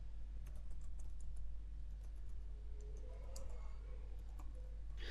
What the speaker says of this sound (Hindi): और यहाँ मैं कुछ टाइप कर देता हूँ।